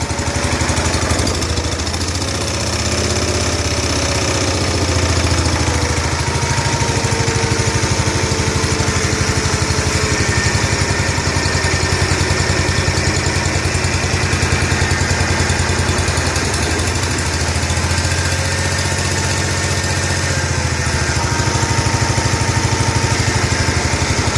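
A John Deere 140 H1 lawn tractor engine runs at slightly raised RPM, a loud, steady, rough mechanical drone that holds close and unbroken throughout with no talking.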